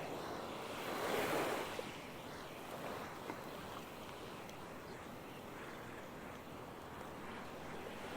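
Ocean surf rolls onto Hon Chong Beach in Nha Trang, a steady broad wash with a louder breaking swell near the start, then continuous hissing surf and light wind noise.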